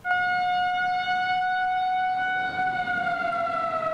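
County tornado warning siren, a loud sustained wailing tone with strong harmonics that holds steady and then slowly falls in pitch as it winds down.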